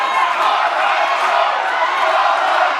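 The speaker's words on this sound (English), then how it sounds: "Listen to this packed house cheering for Farmer Joe." A packed house at a professional wrestling rumble event roars and cheers continuously, a loud, sustained crowd wash with whoops blending in.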